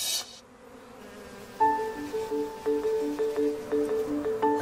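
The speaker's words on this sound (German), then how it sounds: "Honigbienen, die wie hier im nahen Rapsfeld Pollen und Nektar sammeln" Honeybees collecting pollen and nectar in a nearby rapeseed field give a steady, close buzzing hum that starts after a short quiet moment and pulses slightly as they move.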